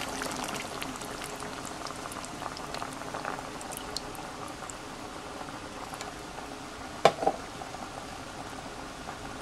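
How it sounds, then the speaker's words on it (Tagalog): Coconut milk poured into a simmering pot of chicken caldereta with potatoes and carrots, heard as a steady soft bubbling and liquid patter, with one brief louder clatter near the end and no voices. "ilalagay po natin yung coconut milk"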